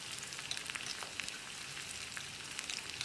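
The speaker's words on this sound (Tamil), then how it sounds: "வெங்காயம் நல்லா வதங்கட்டும்." Small onions and curry leaves fry in a pan for sambar, giving a steady, soft sizzle with scattered crackles throughout, fairly quiet and with no voices.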